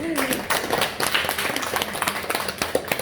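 A church congregation claps together in a steady, dense round of applause that fills the room, close and fairly loud, with voices murmuring underneath.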